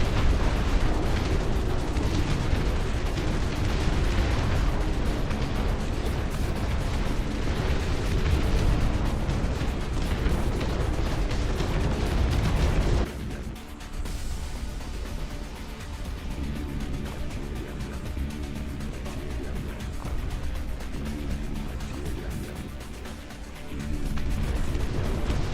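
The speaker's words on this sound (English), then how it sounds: "Shelling of the territory." Artillery shelling in the RTS game Dust Front: a loud, dense barrage of rumbling explosions for about half the span, then a sudden drop to a quieter stretch of scattered lower booms and rumble before the level rises again at the end.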